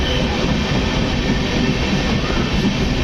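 A train roars steadily through a long tunnel before Betul railway station, a dense, loud rumble with a constant rushing noise and no pauses.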